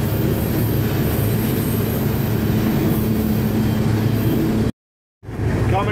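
Freight train running near Glenwood Springs, a loud, steady rumble with wheel and rail noise, close by, cut off briefly by a short gap of silence near the end.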